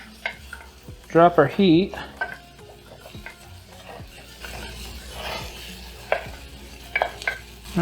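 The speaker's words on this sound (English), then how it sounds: "And then we'll give it a quick stir here." Garlic sizzles in hot oil in a pan while a utensil stirs it in a few quick scraping strokes, with a brief burst of louder clatter early on; someone talks at moderate volume over the frying.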